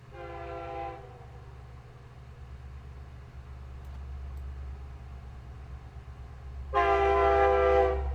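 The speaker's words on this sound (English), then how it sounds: "Oh, there's train" A train rolls past with a steady low rumble, its horn blaring loudly at the start, falling silent, then sounding again even louder near the end.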